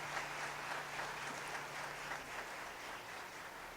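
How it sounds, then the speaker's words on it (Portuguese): A church youth gathering audience claps for a couple, a faint steady wash of applause that holds without a break, distant and low in level. "Queria que vocês aplaudissem esse casal aqui."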